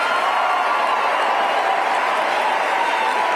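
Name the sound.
audience applauding and cheering, crowd standing up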